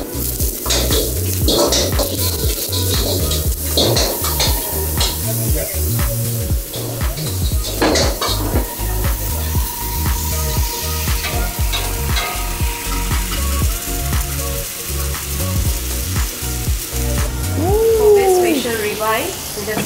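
Beef rib sizzler plate hissing and crackling steadily at a Chennai restaurant, with clattering and scraping of utensils through the bed of sizzle and people talking nearby.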